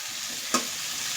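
Eggplant pieces sizzle in hot oil in a pan, a steady frying hiss with one brief stirring scrape near the middle, close and without talk.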